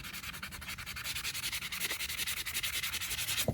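Hand sanding of an epoxy-coated glitter tumbler, a rhythmic back-and-forth rasping repeated in quick even strokes, close and alone.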